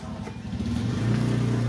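A freshly repaired motorcycle engine idling and then revving, rumbling low and close with a rising, steadier roar in the second half.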